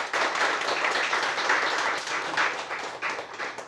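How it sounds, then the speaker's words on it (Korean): Sustained, dense applause from a forum audience at a franchise business discussion event on coffee, steady and fairly loud throughout with no talking over it. "먼저 큰 박수 부탁드리겠습니다"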